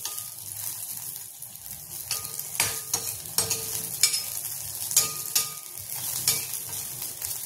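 Green chillies fry in a pan for a peanut thecha, a soft continuous sizzle with scattered sharper crackles and stirring scrapes, moderately quiet and close, with no talking.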